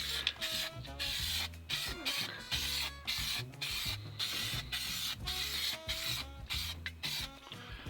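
Aerosol spray paint laid on in a heavy coat over the rust-repaired battery tray of a classic Austin A30, a steady close hiss running in bursts beneath background music.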